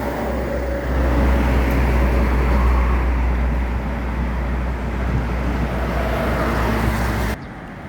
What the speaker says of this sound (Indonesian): MPM SR3 pakai bodi Laksana